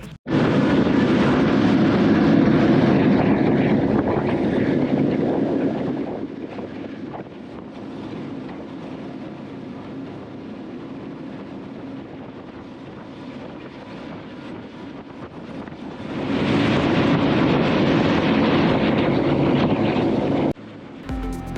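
A Mercury Verado 425 hp V10 outboard engine drives a boat on the water, its steady, fairly loud drone rising in the opening seconds and again near the end, with a quieter cruising stretch in between.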